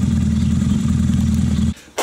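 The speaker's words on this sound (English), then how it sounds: "That is a mean sounding bike." A Honda CB250 motorcycle engine running close and loud in a steady, rough revving drone that cuts out abruptly near the end, then briefly picks up again.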